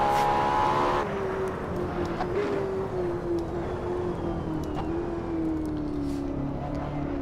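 A Ferrari LaFerrari engine held against its rev limiter, a loud near howl that holds a high pitch and stutters at the cutoff, then drops and climbs again in steady, buzzing waves.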